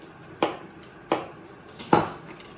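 A masher works through potatoes for a fish pie topping in a pan, giving three separate knocking thumps against the pan spaced under a second apart over a quiet background, with no talk.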